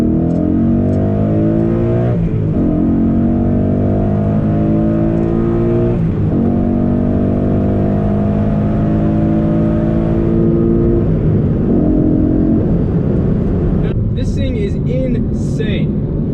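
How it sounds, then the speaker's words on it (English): A 2014 Mustang GT with a short throw shifter revs hard up to redline in second gear, its engine note climbing loud and close, then drops briefly at the shift into third before pulling again, with someone talking over it. "Second gear pull, I'm doing 30, I'll redline it and shift into third."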